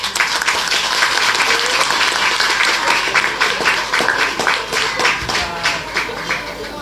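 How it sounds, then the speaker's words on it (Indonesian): A crowd at a Maulid Nabi Muhammad gathering in Gianyar gives Pak Joko loud, dense, sustained applause, many hands clapping at once without pause. "alhamdulillah tepuk tangannya rada kenceng"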